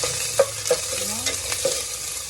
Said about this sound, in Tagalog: Gisa-gisa na yung sibuyas niya.